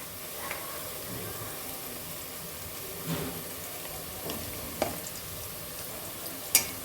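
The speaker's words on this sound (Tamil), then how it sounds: "இந்த மாதிரி நல்லா பொன்னிறமாக வதங்குற வரைக்கும் பொறுமையாக வேக வைக்கணும்" Small onions sautéing in a pan for chicken biryani, a soft steady sizzle with occasional light stirring scrapes, fairly quiet and close.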